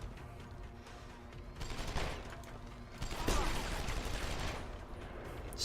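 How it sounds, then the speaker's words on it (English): Sniper rifle shots in the Deus Ex video game boss fight, sharp gunfire bursts over a dense game soundscape of mechanisms and rumble, with a couple of loud reports standing out. "takes a few sniper rounds to the face"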